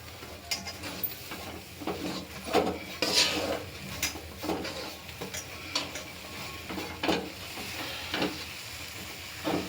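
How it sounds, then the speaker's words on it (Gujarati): A coconut and green turmeric mixture for barfi is stirred in a pan, giving a soft sizzle with irregular scraping and light clinks of utensil against metal, close and moderately quiet. "હવે આ કોપરાનું છે ને હળદરવાળું મિશ્રણ હું આની અંદર એડ કરી દઉં છું ને આને હું બરાબર મિક્સ કરી લઈશ."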